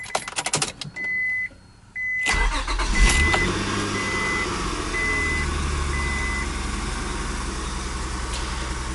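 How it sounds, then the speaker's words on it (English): A 1998-2002 Honda Accord with an automatic transmission idles, then a sharp clunk sounds as it shifts into reverse. Several evenly spaced reversing beeps and a steady engine hum follow, all close. "when I shift into reverse, it makes a large clunk"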